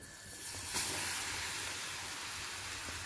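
Coarsely crushed garlic frying in a pan, a steady sizzling hiss with a brief brighter spurt early on, continuous and close with no talking.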